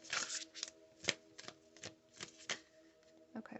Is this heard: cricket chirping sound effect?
no